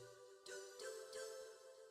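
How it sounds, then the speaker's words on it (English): The Metal Gear Solid video game startup sound: a soft, shimmering electronic chime swells in, followed by two brighter tinkling accents over a sustained synthetic drone, fairly quiet. "that's like the very first noise you hear when the first Metal Gear Solid game starts up"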